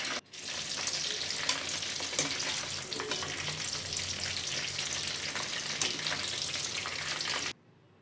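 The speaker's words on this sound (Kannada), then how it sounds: "ನಂತರ ಇದನ್ನು ಕಾದ ಎಣ್ಣೆಯಲ್ಲಿ ಫ್ರೈ ಮಾಡಬಹುದು" Mushroom kebabs frying in hot oil, a steady, dense crackle and sizzle filling the kitchen with occasional sharper pops, then cutting off abruptly near the end.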